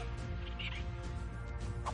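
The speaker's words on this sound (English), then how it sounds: "I'm killing turkeys." Dodo birds in the video game ARK Survival Evolved cluck and squawk in short fowl-like bursts over a dense, steady wash of in-game background noise.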